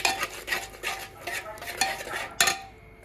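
A spoon stirs biryani ingredients in a pot, giving a quick series of scraping, rustling strokes with a few metallic clinks, close and fairly loud, with no talking.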